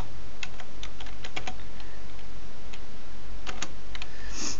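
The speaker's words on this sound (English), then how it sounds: "Going to type in config t." Keystrokes on a computer keyboard while entering switch configuration commands, a scattered run of light clicks in short bursts and pauses, close and alone with no talk.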